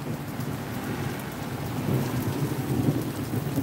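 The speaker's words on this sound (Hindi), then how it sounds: "बारिश जोर जोर से आ गई है" Heavy rain pours steadily during a thunderstorm in Jalandhar, Punjab, with a low rumble of thunder swelling in the second half over the constant hiss of falling water; no one speaks.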